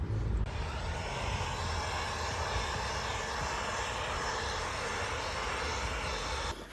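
A loud, steady roaring blast of air from a hot air tool reflowing an RTX 2080 Ti graphics card at around 300 degrees, unbroken from start to finish, a harsh wide rush with a deep low rumble underneath.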